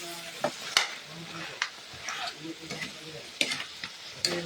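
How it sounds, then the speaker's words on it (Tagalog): Adobo simmering in coconut milk fries and sizzles in its own rendered oil, a steady crackling hiss broken by a few sharper pops and stirring scrapes, close and moderately loud with no talking. "nagmamantika na itong ating adobo sa gata"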